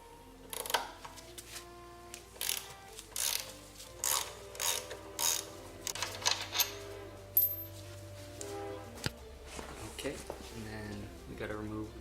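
Ratchet wrench turning the 6mm front-wheel pinch bolt on a Yamaha XSR900, a run of quick rhythmic clicking bursts close by, with someone talking over parts of it.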